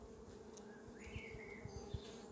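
Honeybees on a hive frame hum softly in a low, steady drone, with a few brief louder buzzes passing close by.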